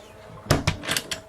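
Storage drawers and cabinets aboard a sailboat bang open and shut in a short quick series of close, hollow wooden knocks and slides, with no voices during them.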